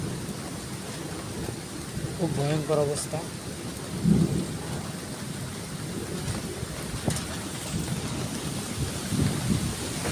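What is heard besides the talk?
thunderstorm with strong wind and rain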